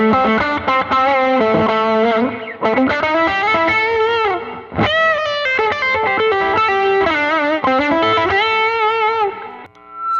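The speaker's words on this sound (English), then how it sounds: "Put on the hall reverb there with the line 6" Overdriven Greco electric guitar through a Tube Screamer, playing sustained chords and melodic lines, drenched in spacious Line 6 hall reverb, loud and continuous with a brief pause midway.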